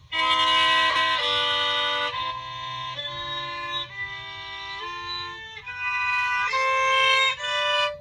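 A violin plays a sequence of sustained notes, slurred in pairs with small breaks between bow strokes, clear and close with no talking.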